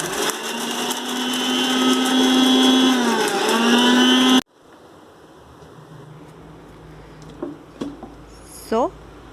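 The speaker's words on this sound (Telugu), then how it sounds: "నట్స్ షెల్స్ని సపరేట్ చేసేసి నేను మిక్సీలో వేస్తున్నాను" A mixer grinder whirs loudly and steadily as it crushes soapnut shells, its motor pitch dipping briefly under load before stopping abruptly, followed by quieter room noise with a few small clicks and knocks.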